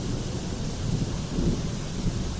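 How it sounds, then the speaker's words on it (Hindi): Heavy rain pours in a dense, steady hiss with a low rumble of thunder and some wind underneath, the storm filling the space evenly at a moderate level. "चारों तरफ बिजली की कड़कड़ाहट और मूसलाधार बारिश थी।"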